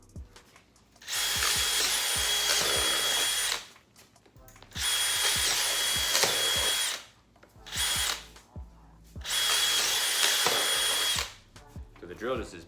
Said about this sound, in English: So the drill just is popping right through.